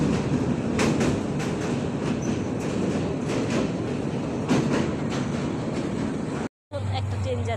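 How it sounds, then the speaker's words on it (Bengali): A train runs alongside on a rural line near the Turag river, a loud steady rumble with rhythmic wheel clatter close by, briefly cut by a short dropout near the end. "ও পাশ দিয়ে একটা ট্রেন যাচ্ছে"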